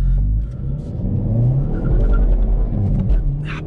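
A 2019 Hyundai i30N Fastback pulls away hard from standstill, its engine droning loud and close from inside the cabin with a deep rumbling revving that climbs and dips through gear changes.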